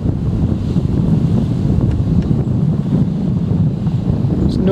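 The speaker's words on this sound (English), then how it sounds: "Wind's blowing." Wind gusts across a lake shore in Ohio in late November, a loud continuous rumbling buffet on the microphone with faint water lapping beneath and no talking.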